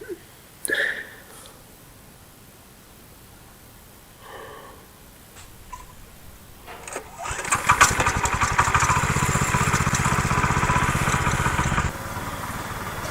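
A light walk-behind tractor with active rotors chopping green manure starts up after a few scattered knocks, then runs loud and steady as a rough, buzzing small engine for several seconds before dropping slightly in level, close by.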